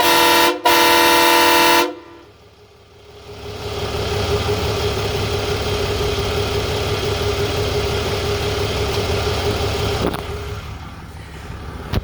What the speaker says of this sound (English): I'm gonna go ahead and sound off the horn for you.